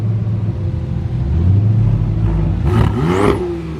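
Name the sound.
Porsche Turbo S car engine revving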